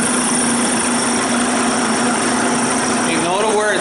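A small engine idles steadily and loudly at close range while its carburetor is adjusted, a constant buzzing drone with a brief wavering near the end.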